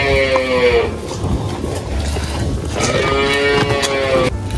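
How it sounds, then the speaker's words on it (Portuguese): Dairy cows in a corral, feeding ahead of milking, give two loud, drawn-out moos close by, with farmyard shuffling and background noise between them. "Enquanto elas estão intertidas aqui se alimentando, Maurício vai tirar o leite."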